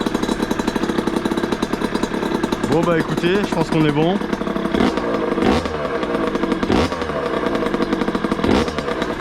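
A rebuilt 50cc moped engine runs just after its first start, with a loud, steady, rattling two-stroke idle and a few throttle blips rising in pitch, close to the listener, while someone talks over it.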